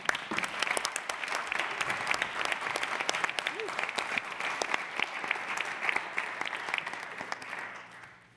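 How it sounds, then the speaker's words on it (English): Sustained applause fills a New York City Council chamber, dense and even, then fades out at the end. "I applaud you."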